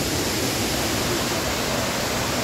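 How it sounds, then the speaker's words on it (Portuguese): A water spout pours beside a dirt road and runs downhill toward a waterfall, making a steady, dense rushing hiss that fills the whole stretch with no voices. "aqui tem uma bica d'água, tá vendo? Ela passa pela estradinha e ela desce, ela vai chegar lá na cachoeira também"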